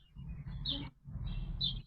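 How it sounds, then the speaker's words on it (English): A bird outside a window gives two short high chirping calls about a second apart, faint and distant over low background hum, with no one talking. "Someone is a very talkative bird."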